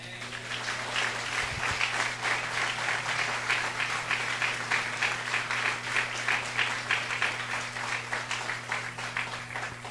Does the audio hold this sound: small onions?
no